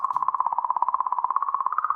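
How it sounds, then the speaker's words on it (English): A sonified recording of comet 67P gives a faint, warbling tone pulsing rapidly and evenly, about fifteen pulses a second, holding steady for two seconds with no talk. "This is what a comet sounds like."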